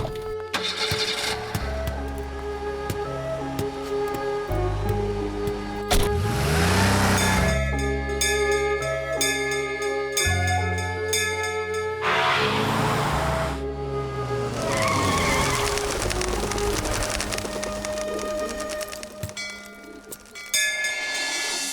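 A car starts and drives off in an Indian action film scene, its engine revving and tires squealing within a dense, loud soundtrack that runs throughout.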